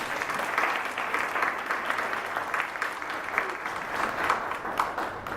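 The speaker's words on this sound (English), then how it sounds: "If we can give a round of applause once again" A room of people applauds at a community forum, sustained and moderately loud clapping from many hands with a slightly uneven, crackling texture.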